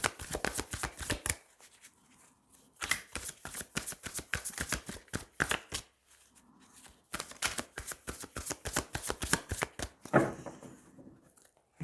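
A deck of tarot cards is riffled and shuffled in several rapid bursts of close, crisp flapping, separated by short quiet pauses, with a final cut near the end and no talking.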